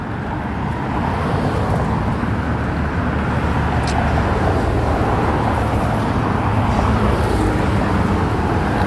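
Steady traffic from many cars on a road, a continuous broad rumble heard by someone walking alone along a jogging path, moderately loud with no talking.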